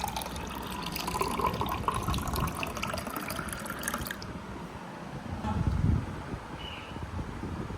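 A little water poured in a household setting, heard as a steady splashing gush that softens partway, with voices talking over and around it.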